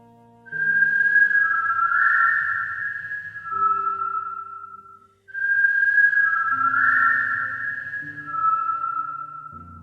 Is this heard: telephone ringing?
no